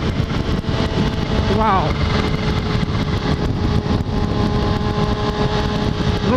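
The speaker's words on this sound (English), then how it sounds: "That's a great pull in fourth gear." Kawasaki H2 motorcycle with a Guhl Motors ECU flash accelerating hard in fourth gear, a loud steady engine roar with rising whine throughout, heard from the rider's position with wind noise and a brief spoken exclamation.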